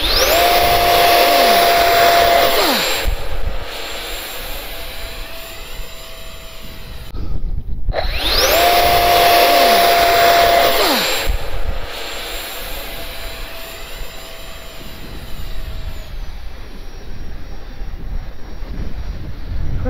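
FMS 64mm electric ducted fan Rafale RC jet on a 4S battery spooling up to a loud, steady high-pitched whine, cutting off briefly, then throttling up again and slowly fading as it flies away, with faint outdoor voices.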